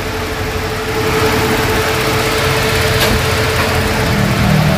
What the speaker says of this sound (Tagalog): Yung compressor naka-engage yung magnetic clutch.